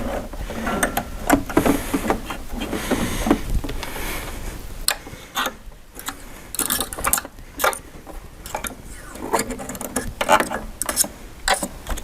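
The handwheel of a Baby Lock Applaud sewing machine is turned backwards for one or two rotations, giving close mechanical clicking and ticking with irregular soft taps that continues for several seconds.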